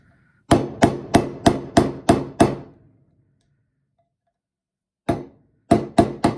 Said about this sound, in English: I'm just going to try and work the screwdriver between the flange and the control arm housing